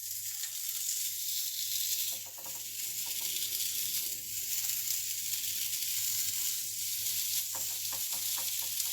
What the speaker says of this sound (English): now the grill's nice and hot, I'm just going to place my kebabs down here